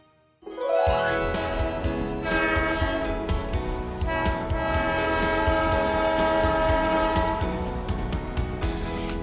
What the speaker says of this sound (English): That's right, it was a train.